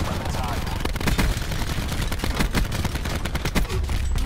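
Rapid gunfire from Call of Duty Black Ops 4 crackles in dense bursts of sharp shots throughout, steady and fairly close, with game ambience underneath.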